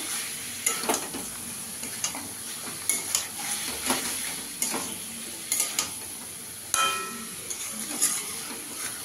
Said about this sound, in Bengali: ঢাকনাটা তুলে একটু নাড়া দিয়ে দিয়েছি